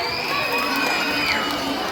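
Crowd at a barangay fiesta gay pageant cheering and shouting, a loud sustained roar of high voices and whoops with little distinct clapping, steady throughout the brief moment.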